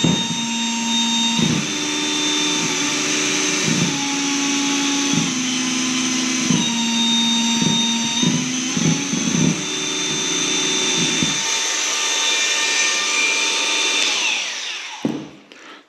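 Milwaukee M12 cordless nibbler running in auto mode, a steady close whine with a repeating lower hum that shifts pitch as it works, then spins down and stops.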